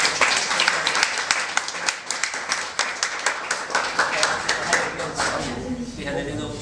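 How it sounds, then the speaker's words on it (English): An audience at a Startup Grind Guangzhou talk applauds the speaker Joe in a steady, close round of clapping that lasts several seconds before gradually thinning out. "let's give Joe a warm applause"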